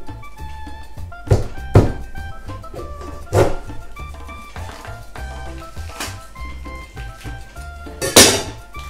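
A pomegranate being cut open with a knife, a few sharp thunks and clinks as the blade hits the board, spaced irregularly, close and clear with no talking.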